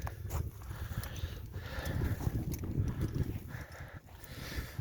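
A heavy draft-horse mare in Ternopil region moves on open ground, her hooves clopping in irregular, fairly close thuds over a steady outdoor background, with no one speaking.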